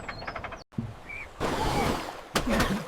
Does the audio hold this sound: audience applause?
no